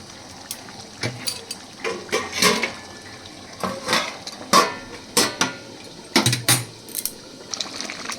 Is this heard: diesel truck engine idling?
no